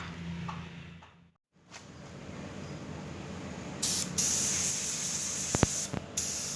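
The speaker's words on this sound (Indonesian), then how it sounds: "Ini adalah proses pengecetan teman-teman, dan kita semprotkan dulu secara tipis ya biasanya" Metallic black spray paint hisses from an aerosol can in long thin bursts onto a Suzuki Splash bumper under body repair, with a short pause between sprays and a few clicks near the end.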